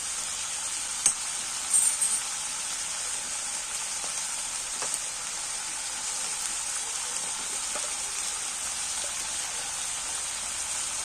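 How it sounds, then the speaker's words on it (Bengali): Ginger fries in hot oil with a thin, steady sizzle and crackle, fairly quiet, with a couple of small knocks early on. "আদাটা তেলের মধ্যে দিয়ে কিন্তু চরবর করবে"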